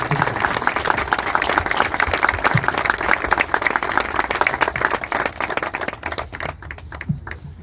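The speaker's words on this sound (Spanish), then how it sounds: "le pido un aplauso muy fuerte para Jesús Callejo" A crowd applauds loudly for Jesús Callejo at a San Juan night event in Mora de Toledo, dense steady clapping that thins out near the end with a few scattered claps.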